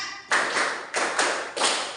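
Students in a classroom play the tepuk kreasi clapping game, three firm group claps in a steady counted rhythm, each a broad burst of many hands sounding together up close.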